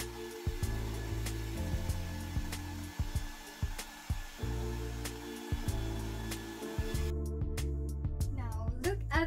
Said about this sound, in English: let's dry it again using our